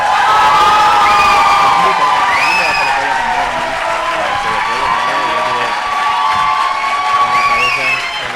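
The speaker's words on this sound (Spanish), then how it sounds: "Vamos a dar un aplauso, por favor, fuerte ruido a quien crea que ha ganado esta batalla." Live audience at a Spanish roast battle show applauding, cheering and whooping loudly and continuously, a dense crowd roar with shouts rising above it throughout.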